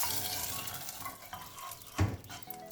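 Jackfruit erissery curry with curry leaves is stirred in a pan, making a soft hiss and shuffling scrapes that end in a sharp clatter near the finish.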